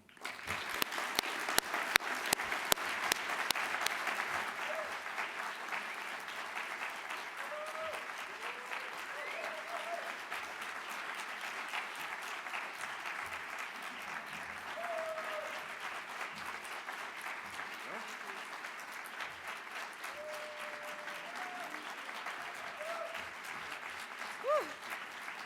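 An audience at the CNS 2024 conference lecture applauds an award to Kia Nobre: steady, sustained clapping from a large crowd, slightly stronger at the start, continuing evenly for about twenty-five seconds.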